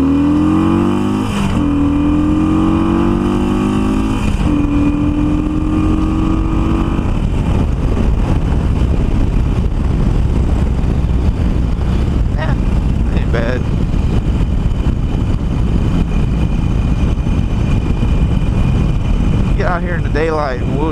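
A Harley-Davidson Iron 883 with an air box mod and a flashed ECM runs on a night ride. Its engine climbs through rising revs in the opening seconds, then settles into a loud, steady rumble with road and wind noise.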